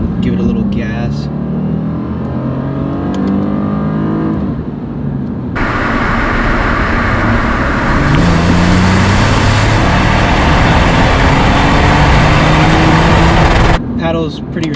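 A Lexus IS250 engine builds under light throttle with paddle-shifted downshifts, its tone stepping up as revs climb, heard from inside the cabin alongside road and wind roar.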